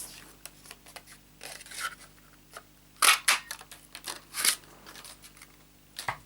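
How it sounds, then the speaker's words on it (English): A washi tape punch cutting out a paper background while making a small gift box, giving a few sharp, close crunching snips around the middle with softer paper handling in between, no voices. "I'm going to use my washi tape punch to cut out the background."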